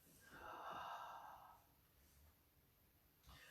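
A deep, breathy exhale closes a yoga practice, soft and close, lasting about a second before fading into quiet room tone.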